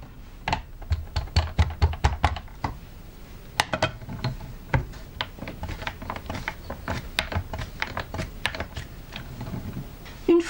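Rubber stamp pressed repeatedly onto paper during a craft stamping session, giving a run of sharp, close taps and knocks, dense at first and then more spaced out, with no talking.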